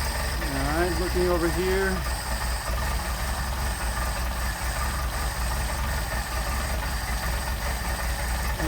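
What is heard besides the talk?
Mercedes 190SL engine with Solex carburetors idling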